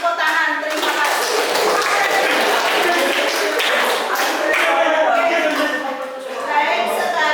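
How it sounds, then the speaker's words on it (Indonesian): A class of students claps hands together in a classroom, a fairly loud, dense patter of many claps sustained for several seconds with voices mixed in. "Ya, tepuk tangan,"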